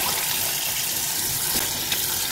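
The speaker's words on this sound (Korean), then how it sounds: "뜨거운 물을 받아줍니다." Hot water running steadily from a tap into a sink to thaw a frozen instant yukgaejang pack, giving a continuous rushing splash with no talking.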